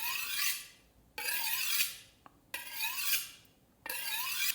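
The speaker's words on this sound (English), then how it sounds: "move the knife along the sharpening steel at a slight angle" Serrated bread knife drawn along a magnetic sharpening steel at a slight angle, four rasping strokes in a steady rhythm, each a bright scraping sweep separated by short pauses, close and clear.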